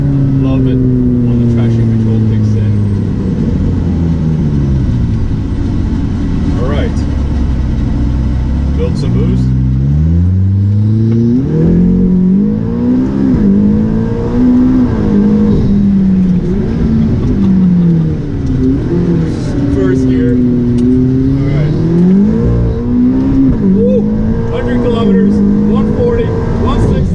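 A Cadillac ATS GT sports car engine drones and shifts pitch while driving through twisty turns with traction control engaged, steady and close throughout with rising and falling harmonics.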